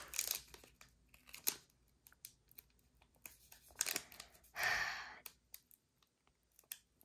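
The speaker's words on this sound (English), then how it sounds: "These packs are kind of getting tough to open." Foil Panini Phoenix football trading card packs being torn open by hand, with scattered crinkles and clicks, a sharp tearing burst near the middle and a longer ripping crinkle later, close and fairly quiet.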